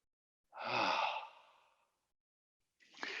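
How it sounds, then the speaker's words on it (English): One deep, audible exhale during yoga practice, a long breathy sigh that fades out, followed by the start of another breath after a short silence, close and clear. "Now breathe. 3 more breaths. And 1 more."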